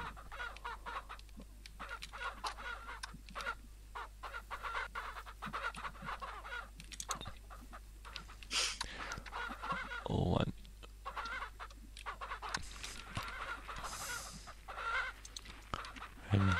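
Chickens in the farming video game Ranch Simulator cluck intermittently over a steady low hum, scattered soft calls with one louder burst near the middle.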